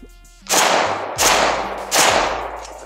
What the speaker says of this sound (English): Back on it with the AK.